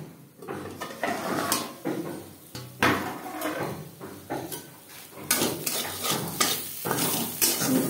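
Bitter gourd (ucche) frying in a small amount of oil in a pan, with repeated scraping and stirring strokes of a utensil against the pan over a soft, steady sizzle, close and fairly loud.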